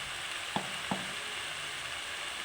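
Water lily stems frying with green chilies in a pan, a soft, steady sizzle with two short knocks of a utensil against the pan.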